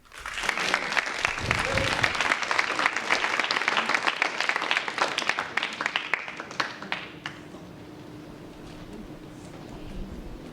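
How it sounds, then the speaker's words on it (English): Enthusiastic crowd applause at a World Refugee Day event, loud and full for about six seconds before thinning out into scattered claps and quiet room tone. "Another big round of applause for Kim"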